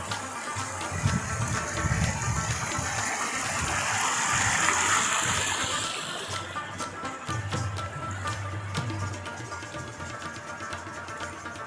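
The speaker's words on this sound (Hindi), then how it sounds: "खूबसूरत पानियों के नाले, ये चश्मों का पानी आ रहा है" Clear spring water rushing down a mountain stream in Kumrat Valley, a steady broadband gush heard close and loud throughout, swelling midway and slightly thinner toward the end, with no voices.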